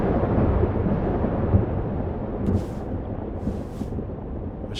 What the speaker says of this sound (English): This storm... I've been through something like it before.